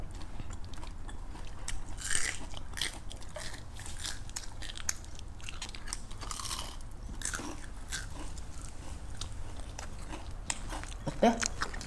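Tteokbokki being bitten and chewed close up, with soft crunchy bites and moist chewing running steadily under quiet room noise, a louder bite near the start and another at the end.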